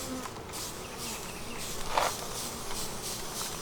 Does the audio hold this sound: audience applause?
no